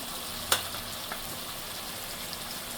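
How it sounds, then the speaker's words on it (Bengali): Ginger garlic paste with coriander and other ground spices sautés in a pan with a constant close hiss. One sharp utensil knock stands out early, followed by softer clicks, and nobody talks. "এগুলো সুন্দর করে এখন কষাবো মশলাটা"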